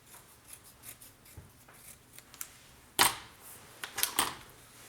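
Scissors snip away excess paper from a mini card-making craft project, a few crisp close cuts clustered near the end after quiet handling rustle.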